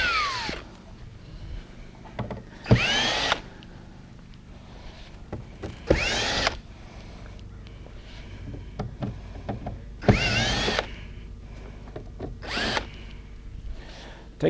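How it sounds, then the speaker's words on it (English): A power drill backs four screws out of the side of a Jabiru aircraft engine's shipping box, sounding as several short whirring bursts with rising and falling pitch, separated by quiet pauses and small handling knocks. "Taking those 4 screws out"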